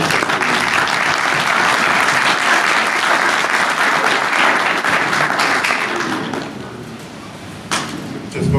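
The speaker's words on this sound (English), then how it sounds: "let's give a big round of applause to all the speakers" A conference audience at SIGGRAPH applauds the speakers of a generative AI session, a loud, dense round of clapping that holds steady for about six seconds, then thins out and fades.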